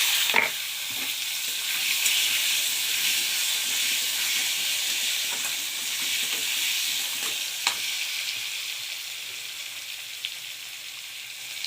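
Black cumin seeds and potatoes dropped into hot oil in a pan, giving a loud, steady sizzle and hiss close by with a few brief stirring clinks, no voices.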